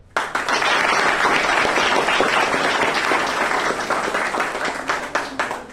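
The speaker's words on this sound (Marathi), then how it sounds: "तुम्ही सर्वांनी टाळ्या वाजवून त्यांचं अभिनंदन करावं, कौतुक करावं" An audience at a school function in Shevgaon breaks into loud, sustained applause, a dense wall of clapping that gradually thins toward the end, leaving a few scattered claps.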